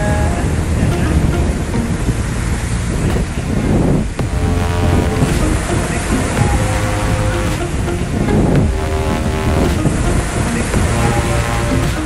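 Ocean waves break on a reef-free beach at a seaside resort in Anyer, rolling surf that swells and falls under heavy wind buffeting the microphone, with family members playing in the water nearby.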